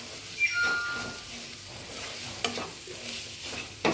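Paneer bharta with chilli powder fries in a pan, a soft continuous sizzle broken by a few brief scrapes and clinks of a spoon against metal, close up and moderately quiet.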